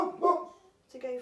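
Dogs bark and yip nearby in two short bursts separated by a brief pause, loud and close.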